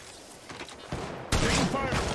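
A short, rapid burst of gunfire in the video game Apex Legends erupts loudly after a quieter, busy moment of game sound.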